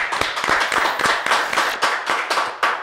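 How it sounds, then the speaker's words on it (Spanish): Studio applause for a guest on a Venezuelan talk show: a few people clap close to the microphone in a loose, rhythmic pattern of distinct sharp claps lasting a few seconds. "Aplauso para Carlos Raúl. Aplauso."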